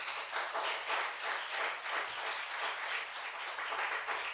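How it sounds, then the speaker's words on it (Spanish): A church congregation applauds, a steady, fairly soft wash of many hands clapping that holds evenly for several seconds with no speech over it. "Den un fuerte aplauso al Rey."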